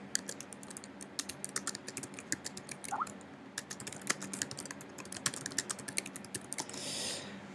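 Fast, uneven clatter of keys being typed on a computer keyboard, close and fairly quiet, with short bursts and pauses and a brief rushing noise near the end, no voices.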